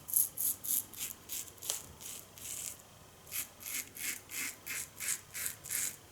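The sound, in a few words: shaving with Merkur 45 safety razor, first pass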